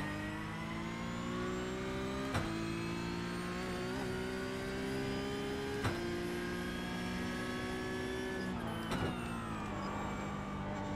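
Sustained engine drone of a Porsche Cup race car in a racing video game at Barber, a steady harmonic whine holding through the clip with a few brief sharp clicks, no talk.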